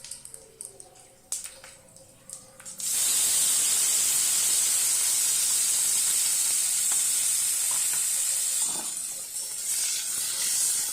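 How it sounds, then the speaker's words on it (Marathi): Cumin, mustard seeds and peanuts hit hot oil for upma, a few quiet clinks giving way to a sudden loud, sustained hissing sizzle that carries on close and steady, with faint stirring scrapes. "आता जिरं मोहरी तडतडल्यावर त्यामध्ये आपण आपल्याला आवडतील तेवढे शेंगदाणे टाकून छान लालसर परतवून घ्यायचे आहेत."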